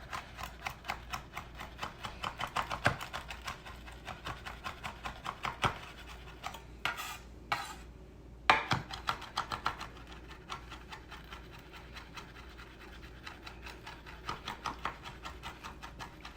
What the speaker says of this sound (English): the reason that you're rocking the knife, not going straight down and chopping it, is all because you don't want to bruise your herbs